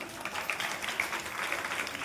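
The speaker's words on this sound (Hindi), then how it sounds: "जोरदार ताली बजाइए।" An audience at a gathering in a Shiva temple in Muzaffarnagar claps together in a brief, fairly soft burst of applause with no talk.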